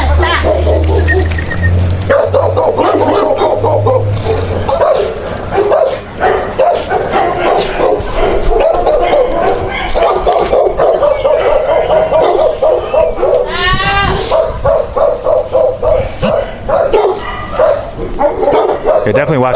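Dogs inside a house bark repeatedly and whimper, loud and close, with yips and whines scattered throughout as people talk over them.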